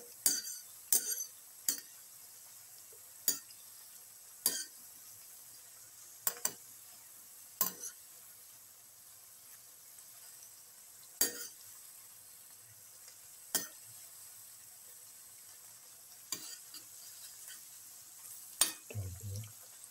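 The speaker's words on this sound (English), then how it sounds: "Let it fry well. Keep on turning" Bitter gourd, fenugreek and chickpea fritters frying in a pan and being turned, a faint steady sizzle punctuated by sharp scrapes and clinks of a utensil against the pan at irregular intervals.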